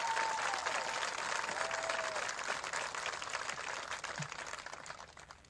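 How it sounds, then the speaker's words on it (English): Sustained audience applause at a 2023 graduation ceremony, honoring the salutatorian; a dense, steady wash of many hands clapping that fades slightly toward the end. "please give a round of applause for our salutatorian"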